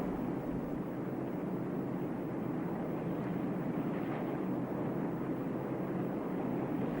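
A Tupolev Tu-95 Bear with four 15,000-horsepower turboprop engines driving eight-blade contra-rotating propellers makes a steady, heavy, broadband drone that holds evenly throughout, with no talk.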